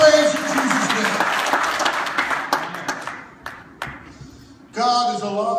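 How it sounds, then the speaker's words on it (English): Church congregation clapping hands in praise during a sermon, a burst of scattered claps that thins out and fades, followed by a voice starting up again at the end. "Give me my hand clap of praise in Jesus' name."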